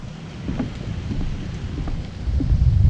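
Steady rain with low thunder rumbling at an outdoor cabin build site during subfloor installation, a continuous wash of rainfall that swells louder toward the end, with no voices.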